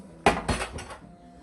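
A metal frying pan is picked up and set down in a home kitchen before frying shrimp, giving three clattering knocks over about a second, close and fairly loud, with no talking.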